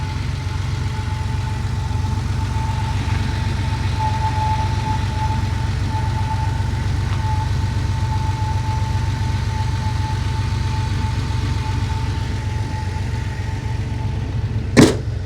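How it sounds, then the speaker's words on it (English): A 1983 Porsche 911SC with its 3.0-liter air-cooled flat-six and 5-speed runs at a steady idle, a constant low rumble heard up close, with a faint high tone above it and a brief sharp knock near the end. "there's your air-cooled flat 6 engine"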